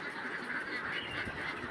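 Ducks at a rural Bengali duck farm where they feed and roam on the water, a steady chorus of nasal quacking and honking calls close by, continuous and fairly loud with no voices.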